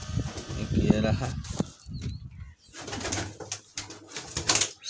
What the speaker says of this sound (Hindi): सबसे बदमाश कबूतर